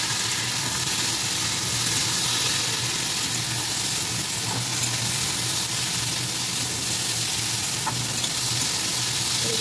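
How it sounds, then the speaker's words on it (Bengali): Pointed gourd and potatoes fry in a pan, a continuous loud sizzle with an occasional stir, and no one speaks over it. "এই যে একটু ভাজা ভাজা করে নিচ্ছি"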